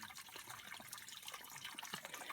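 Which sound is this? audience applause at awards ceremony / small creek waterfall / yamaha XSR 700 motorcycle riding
small creek waterfall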